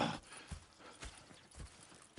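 Steady clip-clop of horse hooves in Red Dead Redemption II, a regular rhythm of hollow thuds at an even walking pace, fairly quiet and close with no voices.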